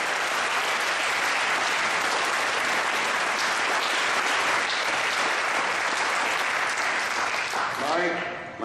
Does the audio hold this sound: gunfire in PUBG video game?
no